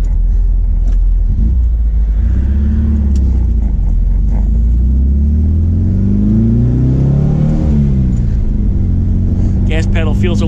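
A VW Type 3 engine with a custom transmission mount runs loud and close, rising in a throttle-blip rev and settling back, with someone talking over the engine rumble.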